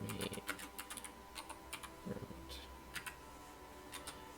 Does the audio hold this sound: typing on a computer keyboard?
yes